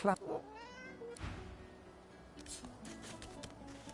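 A cat in the fantasy role-playing game Divinity: Original Sin 2 gives a short meow at the start, followed by quiet game ambience with faint soft sounds.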